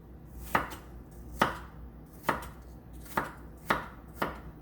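A knife dices an apple on a cutting board in six sharp, evenly spaced chops, close and clear, with no talking.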